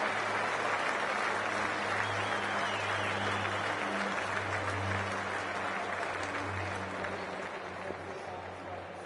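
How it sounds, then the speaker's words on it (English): A stadium crowd at a cricket match in the Cricket 24 video game cheers and claps in a broad, sustained roar, with steady droning horns or chants underneath that ease slightly toward the end, and no commentary heard. "already the crowd is up and about"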